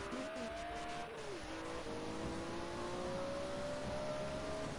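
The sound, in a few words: BMW M1 Procar race car driving at Spa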